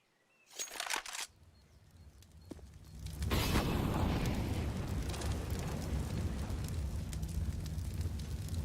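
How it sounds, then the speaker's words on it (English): Flashbang grenade in Counter-Strike on the map Inferno, a couple of sharp bursts followed by a loud explosive blast that settles into a sustained roaring rush. "Flashbang over the top."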